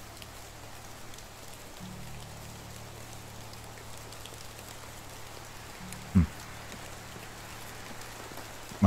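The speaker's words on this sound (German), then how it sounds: "Der Regen macht es jetzt auch nicht gerade einfacher, hier was zu hören." Rain pattering steadily in a forest in Medieval Dynasty, a constant dense hiss with a faint low drone underneath and one brief soft knock near the end, no voices.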